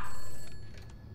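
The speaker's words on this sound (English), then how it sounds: "Ring, ring, new phone." A telephone ringing in the horror game Summer of '58, a short electronic bell tone that fades and sounds alone without talk.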